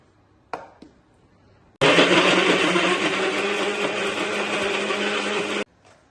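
A blender whirs loudly and steadily for about four seconds, blending areca fruit juice with milk powder, preceded by a couple of brief clicks and taps before the motor starts and cutting off abruptly.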